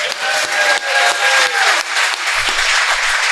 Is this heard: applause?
yes